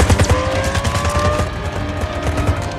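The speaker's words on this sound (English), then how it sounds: "Why are they shooting at me?" Rapid gunfire rattles around an orange Lamborghini, dense repeated shots over a roaring car engine and screeching tires, loud and close throughout.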